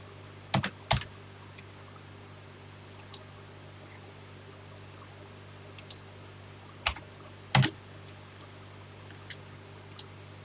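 Keys clack on a home computer keyboard while a BASIC program is entered, in short clustered bursts separated by pauses over a steady low hum, close and fairly quiet.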